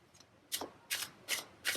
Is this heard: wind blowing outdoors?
no